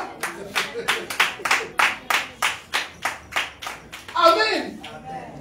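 A church congregation claps in a steady rhythm of about fourteen sharp claps, a short burst of cheering voices rising near the end.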